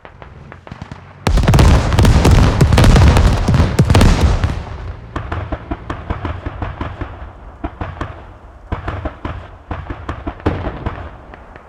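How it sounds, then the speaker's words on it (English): Rocket barrage in the video game Squad: a loud, dense cluster of overlapping blasts for a few seconds, then a long run of separate sharp explosions and crackling pops trailing off. "Rocket barrage"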